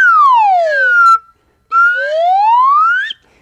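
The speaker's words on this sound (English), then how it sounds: "when you blow into the slide whistle" A slide whistle blows a loud, pure tone that glides steadily downward, pauses briefly, then slides back upward in a long rising sweep, heard alone up close.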